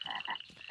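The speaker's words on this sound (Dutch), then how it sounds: "En dat is de grote papa-kikker." Cartoon croaking of a big father frog, several rhythmic throaty croaks in quick succession, fairly clear and close with no talk over them.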